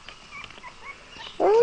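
Young puppies whimper softly through the first part, then one lets out a louder, higher whine near the end, close by with no talking over it.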